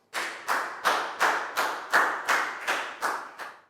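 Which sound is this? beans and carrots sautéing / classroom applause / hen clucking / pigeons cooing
classroom applause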